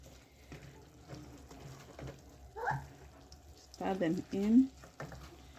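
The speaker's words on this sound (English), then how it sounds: "then we put in my dania leaves now, and then I stir them in" Light scraping and stirring as coriander (dania) leaves are mixed into a pot of banana flower stew. The soft bursts are faint and come mostly under a person speaking.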